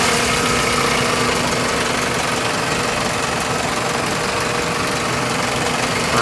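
A 2001 Toyota Corolla engine with a bad VSV runs steadily during a smog test, a continuous mid-pitched engine drone with a faint vibrating hum, constant in loudness and without clear rises in revs.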